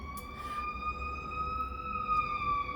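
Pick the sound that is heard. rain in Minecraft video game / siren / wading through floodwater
siren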